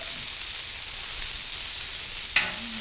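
Chicken wings sizzle steadily in oil on a Blackstone griddle, a close hissing fry with one sharp scrape or clack near the end as a wing is flipped.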